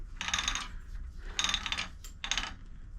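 Rollers on a long arm quilting frame being turned to advance a quilt give three separate bursts of clicking, ratcheting mechanism noise, each lasting under a second with quiet pauses between, close and fairly loud, no talking.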